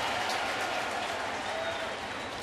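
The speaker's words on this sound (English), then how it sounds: "A nice applause here for Capuano." Mets home crowd applauding pitcher Capuano at a 2011 baseball game against Atlanta, steady broad applause filling the whole stretch at even volume, heard from a distance.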